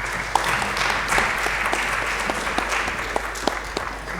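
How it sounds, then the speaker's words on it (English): A workshop audience claps after a talk, a steady patter of many hands at moderate distance sustained for about four seconds with scattered sharper individual claps and no talking over it. "Give a big round of applause for Sean."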